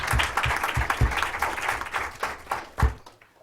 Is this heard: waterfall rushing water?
no